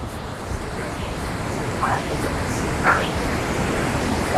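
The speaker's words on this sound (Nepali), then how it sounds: "first look Jharna सुर्सी डह्रो झरिरहेछ" Sursing waterfall in Helambu, Nepal, pouring steadily as a broad, continuous rushing roar with a couple of faint brief chirps on top, heard from a moderate distance.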